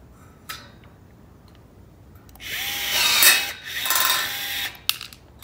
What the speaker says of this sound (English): Grab your rivet gun.